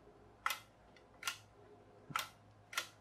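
An old film camera's shutter clicks four times in a quiet room, sharp close snaps spaced under a second apart.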